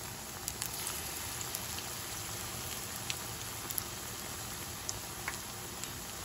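Masala chana dal vadas sizzle steadily in hot frying oil, a quiet continuous crackle like light rain, with scattered sharper pops rising above it.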